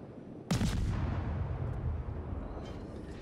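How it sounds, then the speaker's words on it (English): Warship gun salvo in World of Warships: a loud, sudden boom followed by a long rumbling decay, with a fainter second report near the end. "So I put some more shots downrange, and then switch over to the Kuma."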